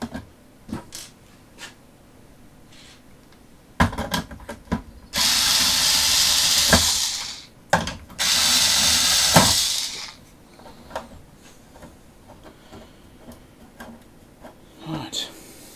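A power screwdriver drives screws in two sustained whirring bursts of about two seconds each, close and fairly loud, amid scattered clicks and handling knocks, with someone talking quietly around them.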